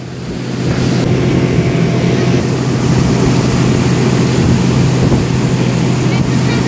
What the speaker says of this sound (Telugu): లంకావే దీవిలో వర్షంలో అదిరిపోయే బోట్ రైడ్